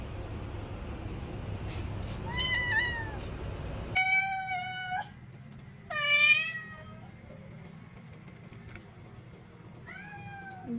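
A kitten meows in a series of melodious, rising-and-falling calls, several close and clear in sequence with short pauses between them, and a final meow near the end.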